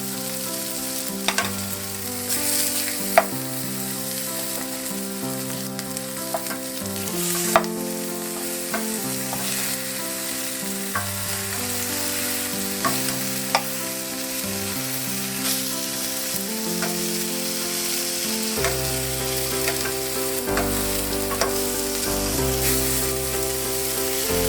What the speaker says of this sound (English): Fry for another 2 minutes.